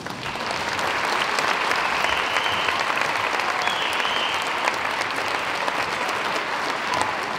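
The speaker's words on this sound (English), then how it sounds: "Could we please give them a big round of applause?" A school band night audience claps for the staff, a full, even round of applause from a large crowd that swells in quickly and holds steady for about seven seconds with no speech.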